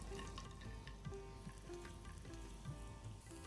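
Minced garlic frying in hot oil in a pan, a dense continuous sizzle with scattered pops and faint stirring, close and steady with no talking.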